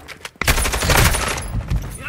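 Rapid automatic gunfire in Call of Duty: Modern Warfare II Warzone 2.0, a dense, loud burst of shots starting after a short quiet lead-in and continuing with a fusillade-like rattle.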